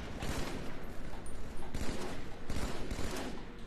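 Dense, rapid gunfire from a shooting video game, with bursts of shots rattling almost without pause at a loud, steady level for the whole stretch.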